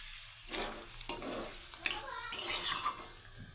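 A lid clatters onto a pot of simmering chicken curry in a Bengali-style home kitchen, giving a few sharp metallic knocks over a soft, steady sizzle.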